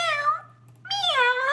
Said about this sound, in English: Maybe a cat?